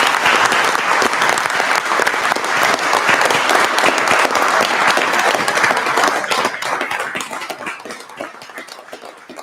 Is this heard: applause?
yes